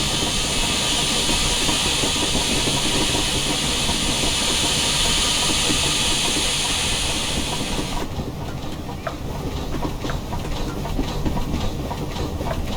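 Steam locomotive LNER J21 0-6-0 in Train Simulator Classic, a loud steady hiss of brake air and steam that cuts off abruptly partway, leaving rumbling rolling noise with faint clanks.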